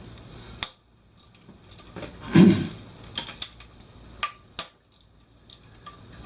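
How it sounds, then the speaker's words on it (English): A 10mm ratchet works bolts loose on a Honda CRF250L cylinder head, with scattered metallic clicks and clatters, short sharp taps and a brief louder rattle of tool against metal, close up and without talk. "First we need to remove this bolt and this bolt with a 10mm."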